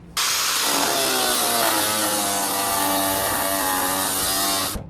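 A loud power tool cuts through the plastic recoil housing of a Honda 2200 generator, a continuous harsh grinding whine lasting the whole stretch, close by and alone.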